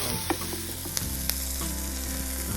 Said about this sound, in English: we're going to cook up the onions and the veggies first